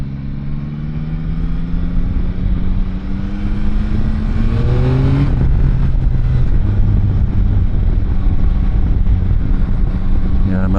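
Yamaha Tracer 9 GT motorcycle engine under way, a loud, steady drone with rising pitch sweeps as the rider accelerates through gears, heavy wind rush throughout.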